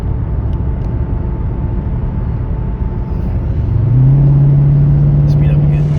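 A Dodge Hellcat, racing another Hellcat, rumbles steadily from inside the cabin, then its engine note climbs and holds louder and stronger as it speeds up.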